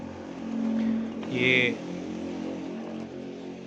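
A motorbike passes along a road near a home garden, swelling briefly louder and then fading away, heard under a voice.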